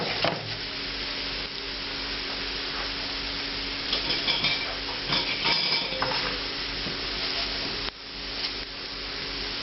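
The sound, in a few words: spices sizzling in very hot oil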